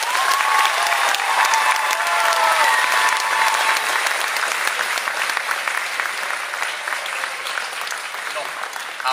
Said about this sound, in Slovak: poprosím ešte o jeden veľký potlesk pre fantastického Milana Madera